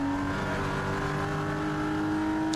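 A Porsche race car is held flat out through fast corners at Brands Hatch, its engine a steady, loud, sustained drone heard close from onboard with no voices.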